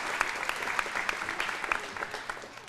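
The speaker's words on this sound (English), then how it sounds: "Round of applause for her" School winter concert audience clapping for the accompanist, a bright, dense round of applause with crisp individual claps, holding steady and gently tapering toward the end.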